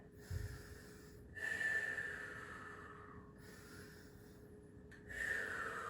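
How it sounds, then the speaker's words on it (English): Heavy breathing during a core workout, several slow, loud breaths through the nose and mouth in a steady rhythm, each drawn-out exhale followed by a short pause, close up with a faint hum underneath. "I'm breathing."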